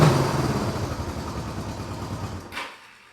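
A vintage Honda CB motorcycle runs after its electric starter engages, giving a steady, throbbing mid-pitched engine idle close by that gradually fades and cuts off sharply near the end, with a brief click.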